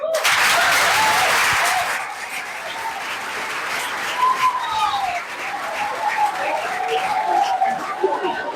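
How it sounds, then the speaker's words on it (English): Loud audience applause for a teacher at a secondary school anti-drug campaign event, a dense burst of clapping that eases after two seconds into lighter scattered claps, with faint voices underneath. "clap for your teacher."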